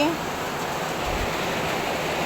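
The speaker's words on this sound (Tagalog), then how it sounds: "grabe ang uwan guys" Heavy rain coming down in a dense, even roar that fills the whole stretch without a break.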